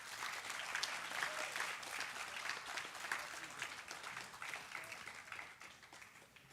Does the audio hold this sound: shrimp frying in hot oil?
no